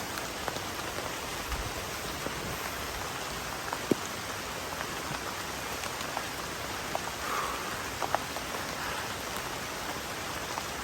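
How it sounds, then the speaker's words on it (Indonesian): Heavy rain falls in forest on Mount Ciremai, a dense, even hiss of downpour with scattered sharper drips and taps on nearby surfaces, continuous and steady with no voices. "Dan ini cuaca juga hujan deras ya sebenarnya"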